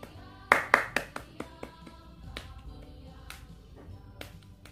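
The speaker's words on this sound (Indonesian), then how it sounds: "Tepuk pramuka 3 kali." A group claps out the Scout clap three times, a quick burst of sharp claps followed by scattered taps and quieter claps in a small room.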